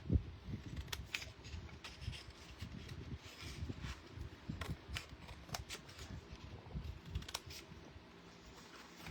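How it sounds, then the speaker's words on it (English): Quiet, repeated snipping and rustling of scissors working through paper, irregular small cuts close by, with soft handling noises between them. "Get my little scissors out."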